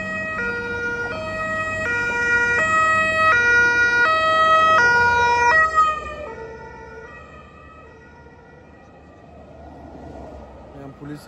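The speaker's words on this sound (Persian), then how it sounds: "پویا آمبولانس آمد" A two-tone emergency vehicle siren on an Italian motorway wails loudly, alternating high and low notes as it passes close by, then drops in pitch and fades into traffic rumble.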